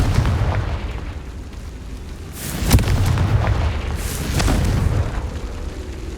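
Confringo blasting spells in Hogwarts Legacy go off as two heavy booming explosions a couple of seconds apart, each with a sharp crack and a rumbling tail over a low background hum.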